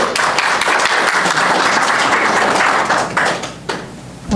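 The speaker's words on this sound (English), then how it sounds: "So please give them your attention, a round of applause, because they deserve that and more." An audience bursts into close, loud applause with crisp individual claps, which thins out and dwindles after about three seconds.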